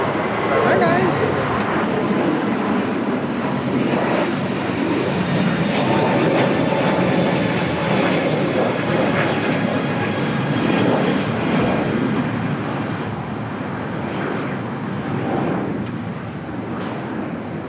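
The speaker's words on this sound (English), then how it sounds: "This flight coming in from Chicago O'Hare, flight 2999, 787-8 Dreamliner" A Boeing 787-8 Dreamliner jet at LAX, arriving from Chicago O'Hare, gives a loud sustained engine roar and rumble throughout, with a voice talking over it.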